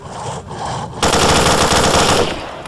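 Automatic gunfire in STALKER: Shadow of Chernobyl, a short burst followed by a sustained rapid rattle of shots lasting nearly two seconds, loud and close.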